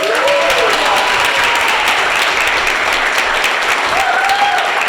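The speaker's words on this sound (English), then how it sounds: "So she also deserves a round of applause." A town meeting audience gives a volunteer a steady round of applause, a dense wash of clapping hands that fills the room at full loudness from start to finish.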